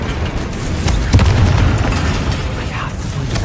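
Confringo blasting spell from Hogwarts Legacy on PS5, a heavy booming explosion with sharp bursts and a rumbling tail amid ongoing game noise.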